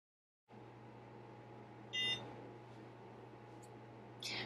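A low electrical hum starts, then a NuFace microcurrent facial device sounds two short high beeps a couple of seconds apart over the quiet drone.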